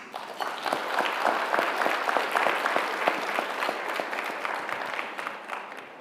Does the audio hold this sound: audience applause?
yes